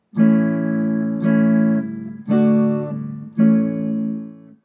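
Four strummed chords ring out one after another at a steady pace, each sustaining briefly before the next strum, close and clear.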